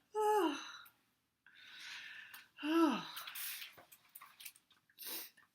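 A voice imitates a long, exaggerated yawn, twice, with breathy sighing sounds between, fairly close and alone without other noise.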